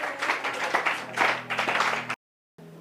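A church congregation applauds during a Bible teaching, steady clapping close and fairly loud with a low hum underneath, cut off abruptly into silence before resuming briefly.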